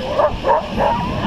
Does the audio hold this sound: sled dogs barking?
yes